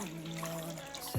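Water pours steadily into a cooking pot with a continuous soft trickle, about two and a half to three litres going in to boil rice, ending with a brief splash.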